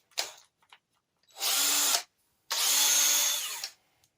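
A cordless drill spins a vintage Briggs and Stratton engine to start it in two bursts, a short one then a longer steady whir, with quiet gaps and small clicks before.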